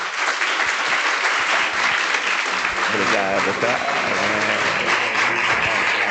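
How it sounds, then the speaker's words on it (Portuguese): Church congregation applauding a pastor at a Sunday evening service, loud continuous clapping throughout while someone speaks briefly over it. "Uma salva de palmas, irmão."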